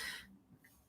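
A single short, faint cough bursts out at the start, followed by quiet.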